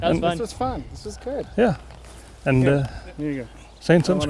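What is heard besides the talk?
No everyday noises stand out.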